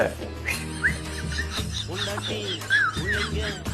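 Bus conductor's whistle blown in short sharp chirps over crowded onboard chatter and engine rumble, with voices talking throughout.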